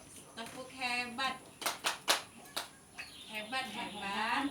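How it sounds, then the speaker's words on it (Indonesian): An audience of mothers performs the rhythmic 'tepuk hebat' clapping routine, with short bursts of hand claps mixed with several voices chanting along. "mari kita sama-sama tepuk hebat"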